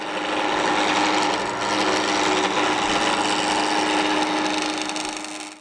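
A wooden table leg being shaped round, likely on a lathe, producing a loud, continuous rasping hum with a steady tonal whine close by, easing off briefly midway and fading at the end.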